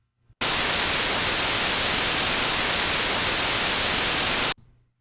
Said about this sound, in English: Here's the white noise audio file we just created in MATLAB.